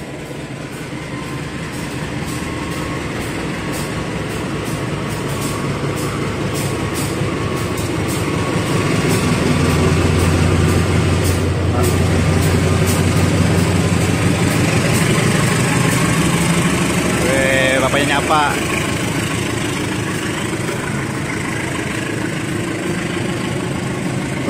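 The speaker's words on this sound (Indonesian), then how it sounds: "CC201 bersama 1 kereta ekonomi premium dan 2 kereta kargo berangkat dari jalur 7 stasiun Jatinegara." A CC201 diesel locomotive hauling one premium economy coach and two cargo wagons departs track 7 at Jatinegara station, its engine drone swelling into a loud, steady rumble nearby, with rail clatter and a brief squeal partway through.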